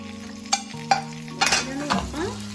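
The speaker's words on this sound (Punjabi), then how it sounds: "ਚੰਗੀ ਤਰ੍ਹਾਂ ਭੁੰਨ ਲਵਾਂਗੇ" Tomato, onion, ginger and garlic fry for a pasta sauce, with a few sharp clatters of a spoon stirring against the pan over a background sizzle.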